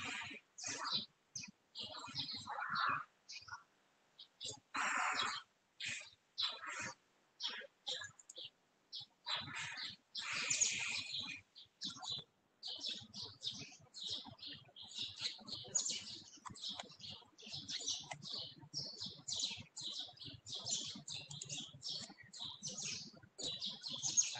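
Small birds chirp and tweet in rapid, repeated bursts close by, with a clucking fowl-like call among them, sounding over faint talk during an online lecture.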